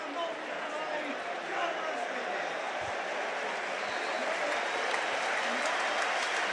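Steady, distant wash of applause from a large stadium crowd at a Barcelona versus Real Betis football match, sustained and even throughout with faint murmuring beneath.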